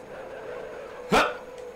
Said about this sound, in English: Oh, shit, dogs!